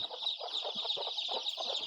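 Native country chickens cluck in quick, irregular bursts over a constant high-pitched peeping of chicks on a poultry farm, close and busy throughout.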